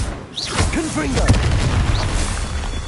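Confringo blasting spell in Hogwarts Legacy going off with a loud, booming burst near the start, as a voice talks over the game sounds and the rumble trails away.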